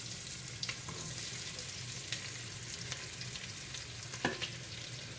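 Onions fry in a pan for French onion soup, a steady close sizzle with occasional soft scrapes and stirring clicks, no voices.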